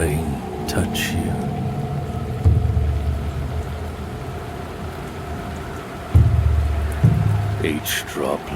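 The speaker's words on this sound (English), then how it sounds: "Don't let the rain touch you." Rain falls steadily in the video game Dive or Die, a continuous hiss under low droning music with occasional deeper thuds and swells, and a voice narrates over it.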